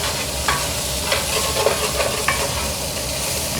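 Roughly cut onions fry in a pan for braised lamb shanks, giving a loud, even sizzle with light scraping taps from stirring scattered through, heard close up with no talking.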